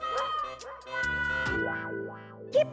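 Processed, effect-laden dog barking used as a comedy show sound effect, a few bouncing yips and barks with a heavily distorted, warbling tone, fairly loud and alone, ending in a sharp short yelp.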